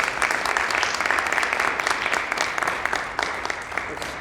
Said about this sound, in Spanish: un aplauso para el evento